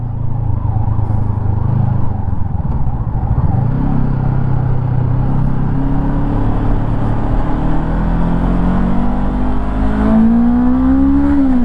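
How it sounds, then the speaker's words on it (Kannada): A 2024 Honda NX500 motorcycle with a 500cc parallel-twin engine hums steadily while riding, its engine note rising in pitch near the end over constant wind and road noise. "ಇದು 500cc ಪ್ಯಾರಲಲ್ ಟ್ವಿನ್ ಇಂಜಿನ್ ಇದು"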